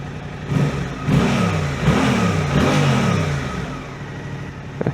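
A Suzuki GSX-8R motorcycle engine revs up and accelerates several times in quick succession, rising in pitch with each pull, loud and close on a road ride in the UK, then easing off.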